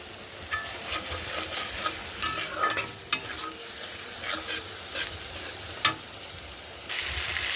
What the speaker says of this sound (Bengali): এবার এগুলো দিয়ে দিলাম, দিয়ে ভালো করে কষিয়ে নেব